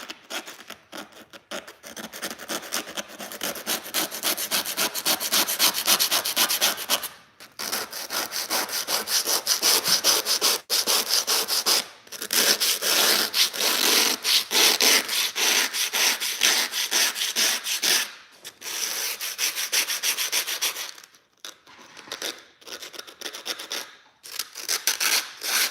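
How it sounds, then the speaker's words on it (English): A razor blade scrapes across the body of an old Chevy in rapid rasping strokes, loud and close. The bursts run for several seconds each and are separated by brief pauses. "Usually I'll take like a razor blade and I'll just scrape them off."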